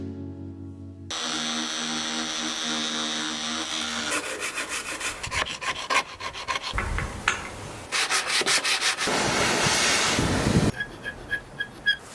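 Rough, steady sanding on a wooden chair after paint stripping, with abrasive rubbing strokes that shift in pace and pitch, some passages smoother and others choppy and rhythmic.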